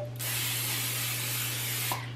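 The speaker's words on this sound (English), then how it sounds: "I'm gonna spray it with some nonstick spray." Nonstick cooking spray hissing onto a 12-inch skillet in one steady, close burst of about two seconds, alone with no talk.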